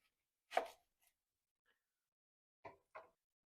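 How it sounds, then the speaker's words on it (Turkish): A knife cuts through an onion being prepared for Mersin-style meat tantuni. Three short, crisp chops ring out close and fairly quiet: a single cut first, then a pair in quick succession after a pause, with no talking. "Öncelikle bir adet soğanımızı şöyle keselim"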